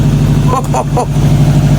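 A Subaru Impreza engine, running after two years unused, holds a steady low idling hum throughout while a voice briefly speaks over it.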